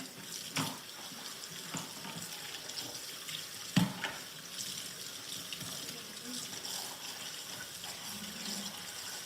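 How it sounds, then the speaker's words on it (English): A kitchen tap runs in a steady gush as hands are washed at the sink, close and continuous, with a brief clatter partway through. "So I'm going to wash my hands really quickly."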